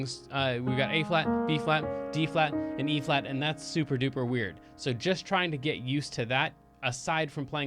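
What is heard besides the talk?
No everyday noises stand out.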